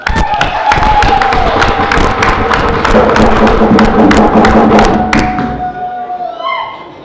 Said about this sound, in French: Je souhaite qu'on applaudisse pour eux.